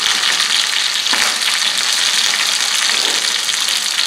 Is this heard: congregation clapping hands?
no